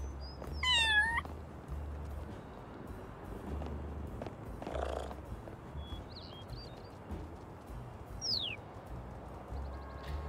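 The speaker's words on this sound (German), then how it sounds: "Komm mal, es wieder gut machen, schnurre ich dich an." Virtual cat purring in the video game Little Kitty Big City, a soft low rhythmic rumble in pulses, joined by a short meow and faint chirping birds, all quiet.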